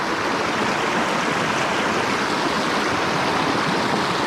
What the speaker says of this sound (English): Little brook.